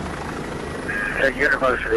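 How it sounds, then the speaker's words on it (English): A DPS police helicopter flies nearby, its steady rotor and engine drone running throughout beneath a voice speaking over it. "The DPS chopper rushed the injured trooper to the hospital"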